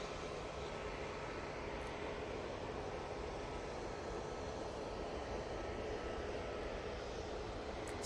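easyJet airliner arriving at Manchester Airport, a broad continuous jet roar heard from a distance, steady and fairly faint with no voices.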